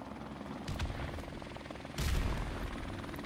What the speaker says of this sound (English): So I'm just trying to obviously avoid the helicopter.